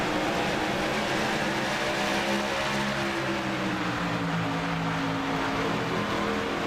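NASCAR race car engines roar around Indianapolis in iRacing's 2007 Brickyard 400, a dense, loud, continuous drone of a pack of cars with shifting engine tones and no voices.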